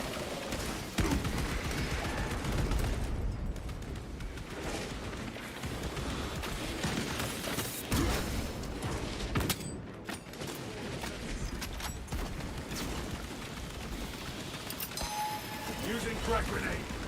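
Bolter gunfire in the Space Marine video game: repeated bursts of heavy automatic shots with clanking combat effects, under frequent speech and game voices over a long stretch.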